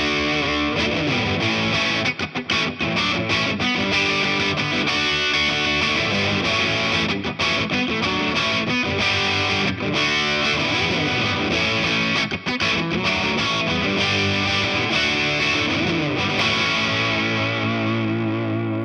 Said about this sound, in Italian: Il suo suono valvolare cattura ogni sfumatura ed ha una bellissima risposta dinamica al tocco.